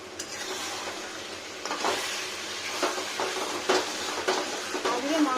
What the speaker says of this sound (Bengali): মাংসটা কষাই আগে